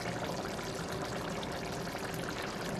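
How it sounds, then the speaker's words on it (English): Olive oil, about two spoonfuls, poured into a pan of tomato pasta sauce, giving a steady, close pouring and trickling wash with no talking. "I'm going to add just a little bit more olive oil"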